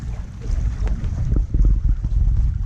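A sailboat under gentle sail, heard as a steady low rush of wind and water with wind buffeting the microphone. It is continuous and fairly loud, with no one talking.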